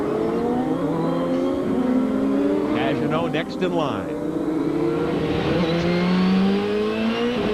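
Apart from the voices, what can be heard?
Champ Car race car engine, driver working the throttle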